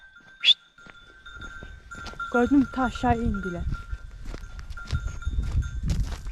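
Goats bleat a few times amid a busy outdoor scene, with a person speaking loudly over scattered rustling and footsteps.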